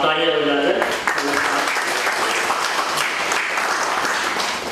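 A crowd claps loudly and steadily, dense applause filling the room for a department promotion being honoured at a formal gathering, with a voice speaking just at the start.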